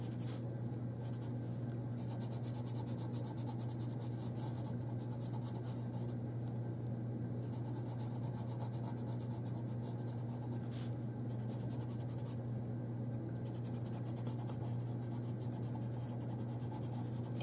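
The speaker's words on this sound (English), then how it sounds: "I'm using the white pencil to sort of blend some things together." Steady soft scratching of a white pencil blending a drawing of a bunny on paper, a continuous faint rub under a constant low electrical hum, with no talking.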